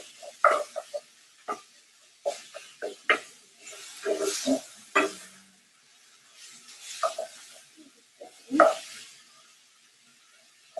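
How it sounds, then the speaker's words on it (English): Ground beef crumbled by hand into a pan and stirred, giving quiet intermittent bursts of scraping and sizzling separated by near-silent pauses. "So I just kind of crumbled in with my hands and then I'm stirring it around."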